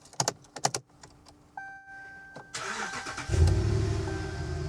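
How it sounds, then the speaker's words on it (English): A car's engine cranks and catches after a few clicks and a faint electronic tone, settling into a steady close idle while an OBD battery cranking test is run. "now let's restart the car"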